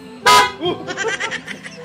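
A single loud, sharp horn blast from a Kymco Xciting scooter rings out near the start, followed by indistinct voices and background chatter.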